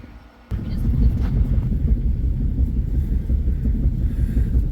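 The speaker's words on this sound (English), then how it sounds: "That's the wind blowing that strap." Strong wind on a mountainside buffets a stretched recovery strap during an off-road vehicle recovery, a steady low rumbling roar that kicks in abruptly and stays loud throughout.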